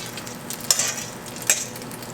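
Egg foo young with bean sprouts frying over a hot gas flame, a steady low sizzle broken by two brief louder spatters, with no talking.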